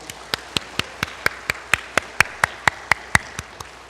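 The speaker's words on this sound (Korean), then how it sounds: "우리 한번 격려의 박수 올려드리겠습니다" A church congregation claps together in a steady, even beat, roughly four sharp claps a second, for the choir after a Sunday worship hymn. The claps swell slightly in the middle, then taper off, with no talking.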